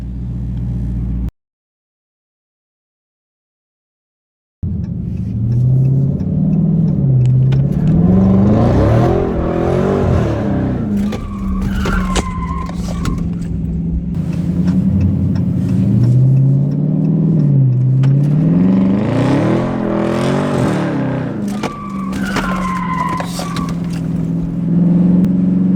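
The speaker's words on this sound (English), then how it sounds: "the car vibrating from the exhaust" Dodge Charger Scat Pack exhaust revving loudly and close by, a deep throbbing rumble that rises and falls in repeated surges, with a brief dropout near the start and the engine droning steadily throughout.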